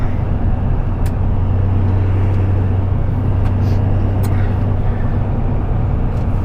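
A 2005 Chevy Duramax twin-turbo diesel pickup with an MPI twin-turbo setup rated at 600 hp, heard from inside as a steady loud low drone under light throttle, with a few faint clicks and no talking.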